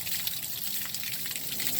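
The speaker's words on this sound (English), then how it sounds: "full blast water pressure" Water gushes in a steady, hissing spray from a boat's starboard outboard motor pipe at full pressure, continuous and fairly close, with no voices.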